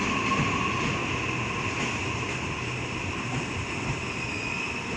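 The Kiama Picnic Train, service 9S42, passes Redfern station with a loud, steady rolling rumble and a sustained wheel hum that holds for the whole stretch, with no one talking.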